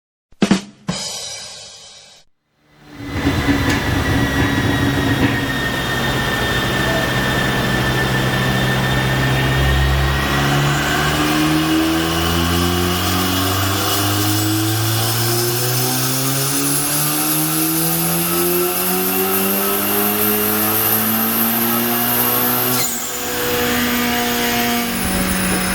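A Stage 3 Audi S3 with a DBV2 V2 hybrid turbo, making over 600 hp, roars through a long, loud pull on a dyno. After a brief blip and pause, its rising engine note climbs steadily for about twenty seconds before backing off.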